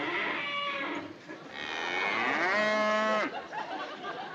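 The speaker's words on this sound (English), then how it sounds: "A bossy cow." A cow moos loudly and nearby, giving several long, drawn-out bellows in a row with a rising and falling pitch, heard alone with no voices over it.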